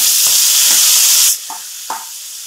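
Masala frying in a pan with finely chopped tomatoes, a loud close hiss of sizzling oil that drops off sharply partway through, followed by a couple of soft scraping stirs of a spoon.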